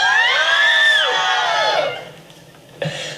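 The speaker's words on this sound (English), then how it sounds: "There, the screams, I warned you." Fans crowded on a cold London street let out a loud, high-pitched collective scream for a band, sustained for about two seconds before fading, then a brief burst of noise.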